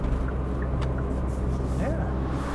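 A 2021 Kia Picanto, a small light car with a 4-speed automatic, cruises gently with a low, steady, subdued engine and road hum from inside the cabin, while someone talks over it.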